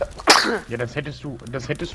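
A single sharp sneeze bursts out loud and close near the start, followed immediately by someone speaking German over the rest of the moment.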